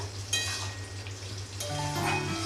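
Bottle gourd curry fries over high flame while green chillies are stirred into the pan, a soft sizzle under a low steady hum with light scraping.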